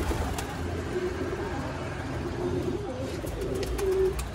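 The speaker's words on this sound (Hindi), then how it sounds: "दोस्तों ये बैठा है कबूतर देखिए पोल के ऊपर में" Pigeon cooing from a bird perched on a pole near a rooftop pigeon box, soft repeated coos at moderate distance over steady outdoor background noise, with people talking nearby.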